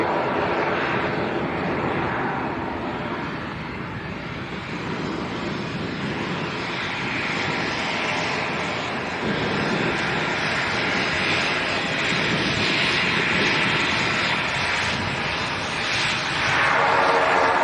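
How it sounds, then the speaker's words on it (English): An Aer Lingus ATR 72 turboprop departs Leeds Bradford Airport, its engine drone building into a sustained loud roar that swells toward the end, with no talk over it. "Right, Aer Lingus next to go, ATR 72."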